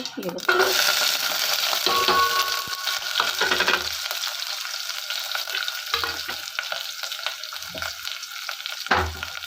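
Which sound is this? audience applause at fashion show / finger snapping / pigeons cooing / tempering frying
tempering frying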